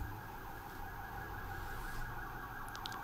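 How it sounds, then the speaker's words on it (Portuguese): Emergency vehicle sirens wailing outdoors, a steady drawn-out tone carried at a distance over faint background hum, fairly quiet and continuous with no speech. "sirenes, desculpem aí, galera"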